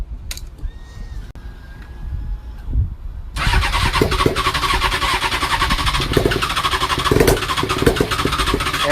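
A motorcycle with a rebuilt transmission and a reversed starter gear: a few seconds of clicks and cranking, then the engine catches and runs loudly and steadily up close.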